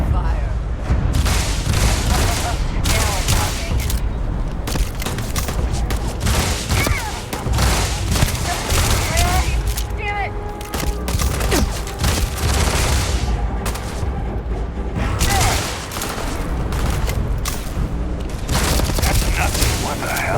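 Gunfire in the Starfield video game, heavy continuous bursts of shots and booms filling the scene, loud and dense with brief lulls, mixed with game effects.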